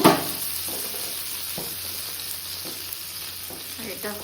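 Pitha sizzling in a pan for breakfast, a steady close crackle and hiss of frying oil with a few faint clinks of stirring, no voices.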